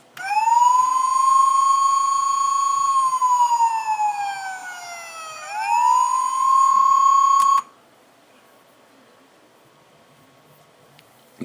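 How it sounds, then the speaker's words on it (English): A Transformers Go! toy's electronic siren wails steadily, dips in pitch and rises again, then cuts off abruptly, leaving near silence. "if you press the buttons, they do the sirens."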